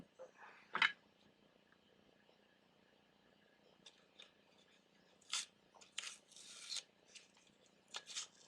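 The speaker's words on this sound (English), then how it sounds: "And then sand that back." Short dry rasping strokes of sandpaper rubbing back fresh paint on a Mega X-Shot Eliminator Nerf-style blaster, a few quick scratchy bursts separated by quiet gaps, close and moderately loud.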